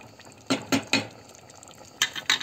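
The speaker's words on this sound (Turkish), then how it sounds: "karıştırıyorum" A spoon clanks against a cooking pot while stirring a mushroom, vegetable and chicken sauté after hot water is added, three quick scraping knocks, a pause, then two more, close and crisp over a quiet kitchen.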